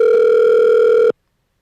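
A steady telephone dial tone sounds loud and alone on a call-in line during a live show, holding for about a second before cutting off abruptly into silence.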